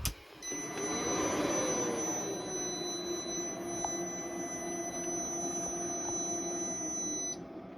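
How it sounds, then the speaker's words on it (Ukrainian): A power inverter wired to a battery BMS switches on, giving a brief click followed by a steady high-pitched electronic whine and hum that holds for several seconds, then cuts out. "І включаємо інвертор"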